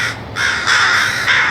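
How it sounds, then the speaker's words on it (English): Crows caw loudly and close by in a garden with plum and peach trees, three harsh calls in a row with short gaps between them, and no talking. "the crows are talking to us"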